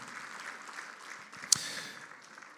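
Church congregation applauding at a Spanish-language service, a soft, fairly distant wash of clapping with a sharper sudden clap or knock standing out midway.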